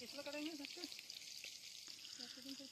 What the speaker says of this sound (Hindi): तब मछली फ्राई हो रहा है